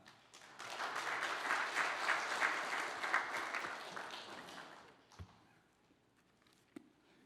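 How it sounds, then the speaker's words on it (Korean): A church congregation gives loud, sustained applause to welcome a guest pastor at a Korean Presbyterian church's 45th anniversary revival service. The dense clapping runs about four seconds, then fades into quiet room tone with a few isolated knocks. "크게 박수로 우리 환영하시겠습니다"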